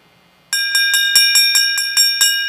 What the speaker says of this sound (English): Bell lap, and Zoe Lai tries to move on the inside and